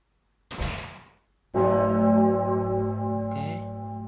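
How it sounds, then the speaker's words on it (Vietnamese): In the horror puzzle game Pocket Mirror, a sharp door slam is followed by a single loud, resonant church-like bell toll that rings on and slowly fades. "Nghe tiếng chuông kỹ một lần."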